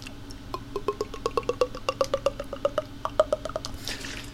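A beatboxer imitates water pouring from a bottle with a rapid run of wet, glugging tongue clicks lasting about four seconds, close and fairly quiet, with no talking.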